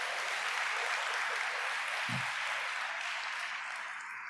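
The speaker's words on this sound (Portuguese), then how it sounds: "Então aplauda ao Senhor Jesus por isso." Applause from a church congregation during a sermon, a steady broadband patter of many hands that stays fairly even throughout, with a single low thump near the middle.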